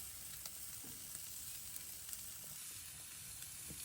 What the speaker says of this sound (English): got this gas grill fired up to over 500, and we're getting that nice seared crust on there right now